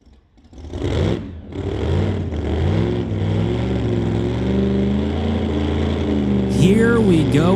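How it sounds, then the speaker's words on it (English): A Shelby Mustang Pro Modified drag car engine fires up at a drag strip with a loud, rough, throbbing idle and a rising rev near the end. A commentator's voice talks over the engine. "Garrett Richards firing up the Shelby Mustang"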